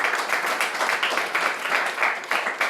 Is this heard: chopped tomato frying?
no